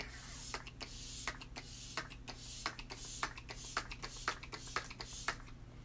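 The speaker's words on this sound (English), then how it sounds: "So Touch Behold setting spray is like hairspray for your face" Younique Touch Behold setting spray mists in a quick series of short, sharp hissing bursts, about a dozen in uneven rhythm. They sound close and soft over a low steady hum, with no talk.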